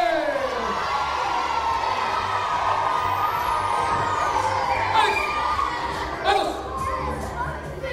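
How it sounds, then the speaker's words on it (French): A crowd of children cheers and shouts excitedly at a circus tent show, a loud continuous roar of voices with whoops rising over it. "je vous demande d'applaudir notre champion"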